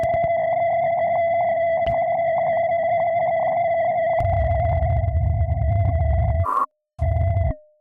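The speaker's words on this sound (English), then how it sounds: "I think I might add a distortion to add some more harmonics to this." A steady droning synth tone through a very narrow bandpass filter and distortion, thin and buzzy with distorted harmonics, gains a rough low growl midway, then cuts out briefly before stopping.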